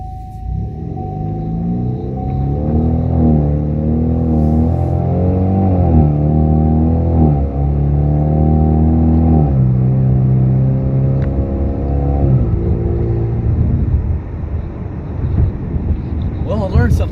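A turbocharged four-cylinder Camaro running on E85 accelerates hard in first gear, its engine note climbing steadily in pitch through a loud, sustained rev with rumble, heard from inside the car before easing off.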